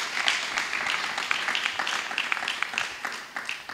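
Church congregation applauding in acclaim of the Lord during a French-language service, a steady wash of many hands clapping at moderate distance, sustained throughout without a break.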